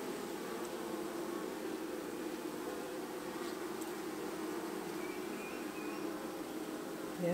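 Honeybees drone steadily around an open hive during an inspection, a faint, continuous buzzing hum that holds level throughout.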